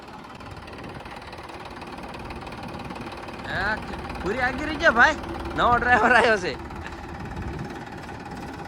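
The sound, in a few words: new Massey tractor engine running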